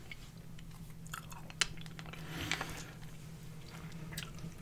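Someone eats Jolly Rancher hard candies up close, with soft wet chewing, sucking and occasional clicks of candy against teeth over a low steady background hum.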